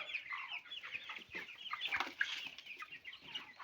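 Cobb 500 broiler chickens in a large batch cluck while eating on fresh litter. Soft, overlapping clucks and chirps come in a busy, continuous murmur from nearby.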